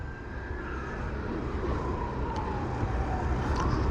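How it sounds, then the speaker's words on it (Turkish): Ambulance siren rising in a long wail, faint and distant beneath the dense roar of a Kymco Downtown scooter riding through heavy traffic. "bir yerlerden ambulans geliyor"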